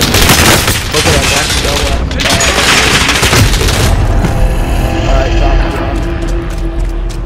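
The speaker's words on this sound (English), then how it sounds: "that was a huge explosion" A loud explosion in Call of Duty: Modern Warfare zombies mode erupts amid rapid bursts of gunfire, with a long rumbling tail that fades out toward the end.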